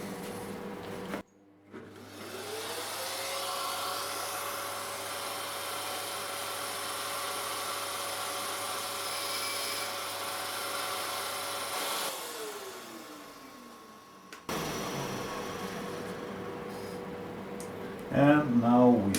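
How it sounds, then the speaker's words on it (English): A grinder's wheel is dressed before grinding hex sections, with the motor whine spinning up, holding steady under a hissing dressing contact, then winding down, followed by a moment of quiet and some closing clatter. "First I need to dress the grinding wheel."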